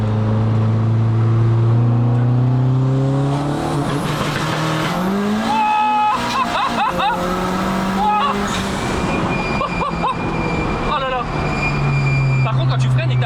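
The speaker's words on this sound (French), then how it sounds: "je mets pied plancher, j'appuie là, je bloque à 4000, le turbo précharge" A 550 hp turbocharged Peugeot 306 revs hard for a rolling launch: loud engine drones, climbs and drops in pitch, with turbo whine and sharp revving bursts. Voices talk throughout.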